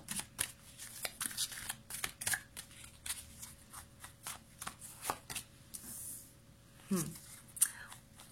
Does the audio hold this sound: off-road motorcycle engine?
no